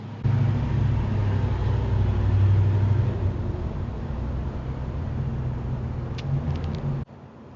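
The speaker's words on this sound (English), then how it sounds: "That was a old diesel truck down there." An old diesel truck rumbles past down below, a steady low engine drone that swells and fades over several seconds before cutting off, with no talk over it.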